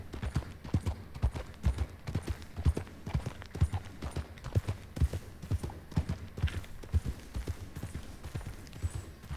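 Horse hooves clip-clop in Red Dead Redemption 2, a steady, even trotting rhythm of close, clear hoof strikes that runs for about nine seconds with no talking.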